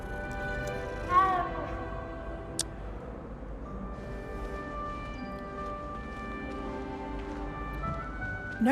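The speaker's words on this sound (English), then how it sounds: "a cat." A cat in the Hogwarts Legacy video game gives a short meow near the start, followed by faint game ambience with small ticks and a brief chime.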